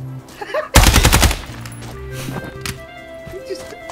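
A loud burst of rapid gunfire from the tactical shooter game Ground Branch, rounds striking a player in one dense volley lasting under a second, followed by quieter game sounds and faint clicks.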